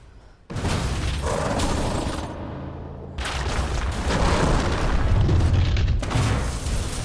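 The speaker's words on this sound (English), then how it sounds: "he manages to drop a cluster of grenades directly onto the Omega, destroying it completely" Grenades exploding in a film battle scene, loud booming blasts with debris and shattering crashes filling the whole span, a brief dip in the middle before a second sustained roar of destruction.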